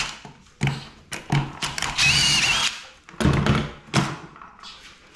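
A power drill whirs in short bursts drilling holes in a wooden board for a planter, with one longer spell of drilling in the middle and knocks and clunks between bursts.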